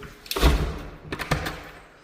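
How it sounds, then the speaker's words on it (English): Doors are shut and locked in a house under remodel, with a heavy thud early on followed by lighter knocks and latch clicks, fairly close in a bare room with no speech. "Lock the doors."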